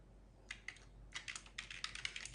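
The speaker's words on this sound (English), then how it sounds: "Just for demonstration, I type in choice 1" Quick bursts of keystrokes on a computer keyboard, a short cluster followed by a longer run of rapid taps, close and fairly quiet.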